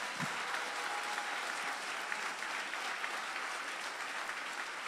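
A crowd at a revolutionary-themed stage show in Nicaragua gives a round of applause. The clapping is fairly faint but steady and even throughout, with no talking over it.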